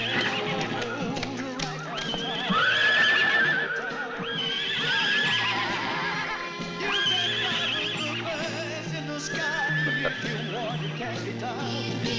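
Several horses whinny in repeated loud neighs over a steady clip-clop of hooves, in a French western film setting, with no talk.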